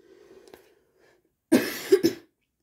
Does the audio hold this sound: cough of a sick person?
yes